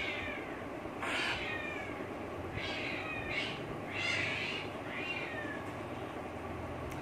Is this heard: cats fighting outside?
yes